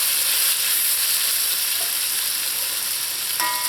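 Potatoes frying and browning in a pot, Trinidad-style fried aloo, give a steady, close sizzling hiss throughout, with a faint scrape near the end.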